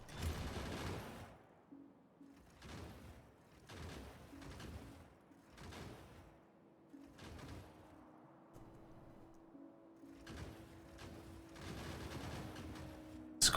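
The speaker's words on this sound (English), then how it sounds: "we hear the barrage of gunfire in the distance" Gunfire in the video game Factorio rattles in repeated bursts at a distance, faint crackling volleys separated by short gaps over a low steady game hum.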